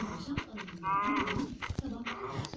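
Cows in a multiplayer video game moo in a few drawn-out, mid-pitched calls at close range, mixed with faint game noise and brief player chatter.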